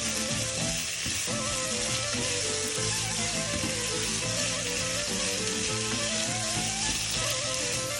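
Red bell peppers fry in a pan for chakchouka, a dense, loud and continuous sizzle, close by, with faint stirring under it and no voices.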